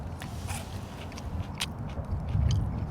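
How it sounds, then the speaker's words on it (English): Crunchy bites of Japanese fried chicken chewed up close, a few crisp crackling crunches over steady low chewing noise. "Can you hear that crunch?"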